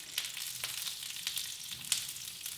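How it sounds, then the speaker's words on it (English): Jalapenos, serranos, tomatillos and garlic sautéing in a pan give a steady close sizzle, with a few sharper crackles and spits popping out over the hiss. "we just sauteed all our jalapenos, serranos and tomatillos"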